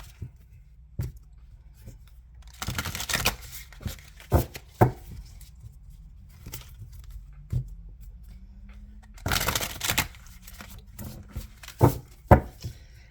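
Tarot cards from a Moonchild deck being shuffled during a reading, heard as intermittent soft riffles and taps, with short bursts of card noise over a quiet background and no talking.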